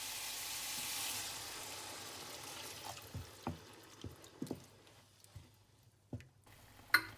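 Water poured into a pan of seared meat for mapo tofu, giving a soft hiss and sizzle that fades, then a few faint clinks and taps from the pan.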